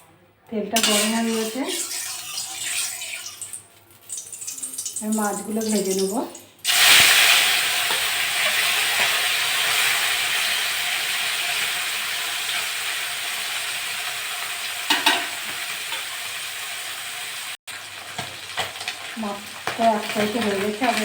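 Mustard oil poured into a hot wok on a gas stove bursts into a loud sustained sizzle that slowly settles into steady frying hiss, with a voice talking before and near the end.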